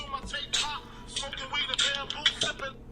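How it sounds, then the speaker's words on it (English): A phone ringtone plays in short, bright melodic bursts during a live stream about a DC digital comics NFT drop. It sounds over background chatter and room noise. "Yeah, that's my ringtone."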